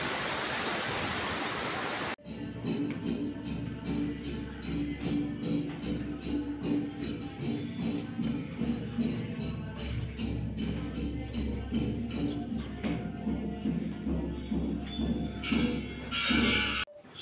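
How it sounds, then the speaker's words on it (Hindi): A river rushing below a high vantage point in the snowy Kullu Manali mountains gives a steady, loud broadband roar of flowing water. It runs unbroken for the whole stretch, with no talk over it. "ये देखिए नदी के बहाव के ठीक ऊपर।"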